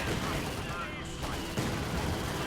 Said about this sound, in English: Nick's guys do have this special light machine gun here